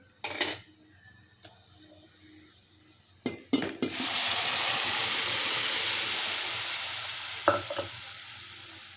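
Cooked, mashed masoor lentils drop into a hot spiced pan and burst into a loud, sustained sizzle that slowly tapers off. A few sharp utensil clinks and scrapes come just before it, and one more near the end.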